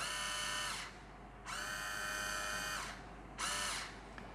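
Xiaomi electric automatic wine bottle opener motor whirring in three separate bursts, a high buzzing whine heard up close and alone, with short pauses between runs.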